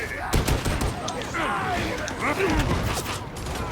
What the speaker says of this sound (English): this machine gun still does bonkers amount of damage